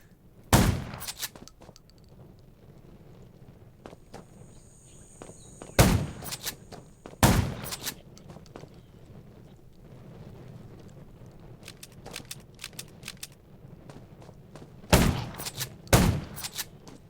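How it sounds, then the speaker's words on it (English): Gunshots in the zombie survival video game Undawn: sharp loud shots in small bursts, a couple early, a pair mid-clip and a cluster near the end, over a low rumbling ambient background. "Gunshots will attract more zombies."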